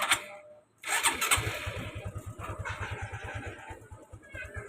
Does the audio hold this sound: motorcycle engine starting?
yes